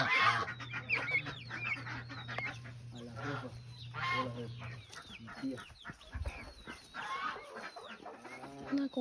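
Chickens cluck and chatter around a farmyard in Costa Rica, a busy stream of overlapping bird calls with soft human voices mixed in and a low steady hum beneath for the first several seconds.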